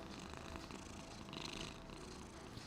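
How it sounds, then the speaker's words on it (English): A pet cat purrs in a continuous low rumbling drone, soft and close, with a faint steady fluttering rhythm and no talk over it. "He purred."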